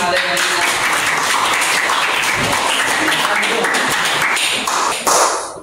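Applause in a classroom-style gathering, a dense, loud patter of many hands clapping close by for several seconds, with voices mixed underneath.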